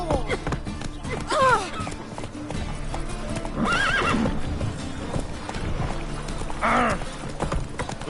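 Roach the horse in The Witcher video game gallops with rapid rhythmic hoofbeats while whinnying neighs rise three times over the run, close and prominent against a busy game background.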